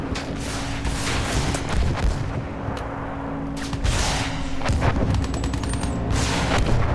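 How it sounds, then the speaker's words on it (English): Battlefield 1 campaign battle with trench combat: dense, loud in-game gunfire and booming explosions fill the whole stretch without a break, no voices over it. "See the guy in the the trenches shooting back up at me"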